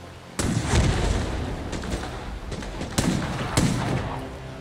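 Several sharp gunshots in the video game Vampire: The Masquerade - Bloodhunt crack out over a steady noisy background, with loud bursts near the start and around the three- and four-second marks.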